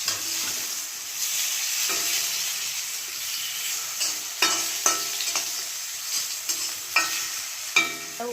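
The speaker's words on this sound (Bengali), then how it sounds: "এবার একে একে আমি আলুটাও ভেজে নেব।" Potatoes frying in oil in a home kitchen, a soft steady sizzle punctuated by repeated clacks and scrapes of a spatula turning the pieces, close and without speech.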